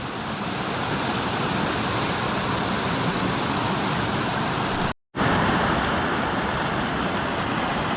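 Waterfall at Tucquan Glen on the Conestoga Trail roars in a steady, loud broadband wash heard close up, with a brief cut partway through.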